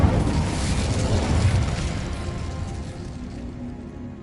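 The Incendio fire spell in Hogwarts Legacy is cast as a loud whooshing burst of flame that roars and then slowly fades over a few seconds, with no voices.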